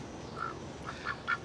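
Benzo, a pet duck, gives a few short nasal quacks in a yard, spaced out and rising slightly in loudness toward the end, moderately close with faint outdoor background and no talking.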